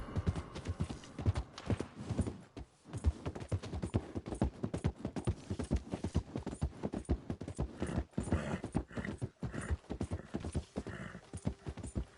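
Horse hooves galloping in Red Dead Redemption 2, a rapid continuous clip-clop of game hoofbeats that runs throughout, loud and close.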